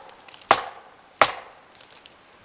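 Two sharp wooden knocks ring out in the open desert of Nevada, about 0.7 seconds apart, crisp and moderately loud against quiet background, with fainter tapping afterward.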